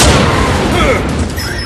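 A loud cartoon explosion rumbles through a dubbed animated action show, a sustained heavy blast with crackling debris that fades gradually over about two seconds.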